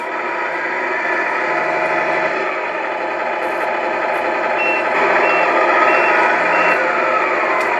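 A Tamiya MFC-01 RC truck with a 55-turn motor plays its simulated diesel engine sound loudly and steadily, with rapid reversing beeps repeating throughout and occasional short higher chirps.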